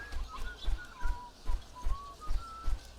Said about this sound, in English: That whistling is weird.